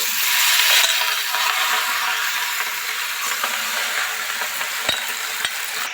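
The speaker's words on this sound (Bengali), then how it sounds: "রসুন কাঁচা লঙ্কা যেই ভাজা ভাজা হয়ে যাবে সেই লাউয়ের পাতাগুলো দিয়ে ভাজবো" Bottle gourd leaves fry in oil with garlic and green chillies, a steady close sizzle broken by the scraping clicks of a spatula stirring the pan, with no talk.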